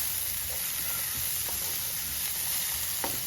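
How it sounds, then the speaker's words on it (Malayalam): Dry fish and chopped shallots cook in a pan for Kerala-style chammanthi, with a constant close sizzle and a few faint stirring taps. "ഒരു കൈപ്പിടി ചെറിയ ഉള്ളി അരിഞ്ഞത് ഇതിലേക്ക് ഇട്ട് കൊടുക്കുക. ഇത് രണ്ടും കൂടെ നന്നായിട്ട് ഇളക്കി കൊടുത്തതിന് ശേഷം"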